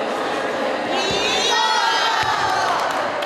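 Senior women cheer on teammates throwing a ball at a basketball hoop during a relay competition, a loud, continuous wall of shouting and cheering that carries on without a break.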